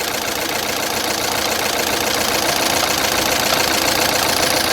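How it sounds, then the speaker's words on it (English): A freshly replaced engine in a Chevrolet Cruze idles steadily, a loud, close, even hum with a fine rapid ticking texture and no pauses. "I like how the engine sounds."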